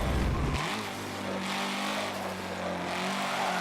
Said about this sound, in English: I do have to say that the car does sound really good.